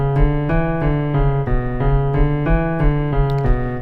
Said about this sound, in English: instead of like when a guitar is playing a riff that sounds like this,